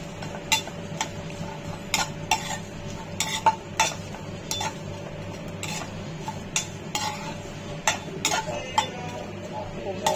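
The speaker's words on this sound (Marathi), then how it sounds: "खोबरा तळून झाले का मसाला मी फोडणी देणार आहे." Spice masala of cumin, turmeric, chilli, salt and sugar tempering in a kadhai after coconut has been fried, with repeated sharp clinks of a spoon against the pan over a low steady background hum.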